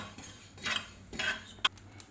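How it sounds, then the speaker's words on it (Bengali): Black cumin seeds are stirred in a frying pan on a gas stove: a few quiet scraping sweeps of a utensil against the pan, then light metallic taps, with no talking. "এবার এর মধ্যে আমি কালো জিরেটা দিয়ে একটু নাড়াচাড়া করে নেব।"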